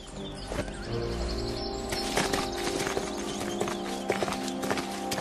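Hooves of a ridden horse clip-clop in a steady, fairly close rhythm, with faint birdsong in the background and no talking.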